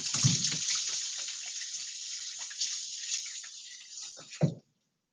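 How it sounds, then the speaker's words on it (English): Tap water runs steadily as hands are washed under it in a kitchen, a close hissing stream with splashes and rubbing, then it cuts off abruptly. "Let me wash my hands real quick."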